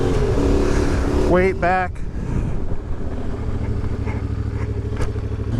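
An off-road vehicle pulls away in second gear, its engine droning steadily beneath wind buffeting on the microphone, while someone talks briefly over it.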